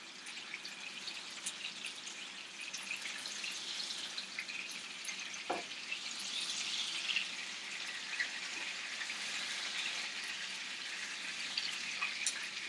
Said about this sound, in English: You can hear the chicken's bubbling a little more aggressively now, which is what we wanted.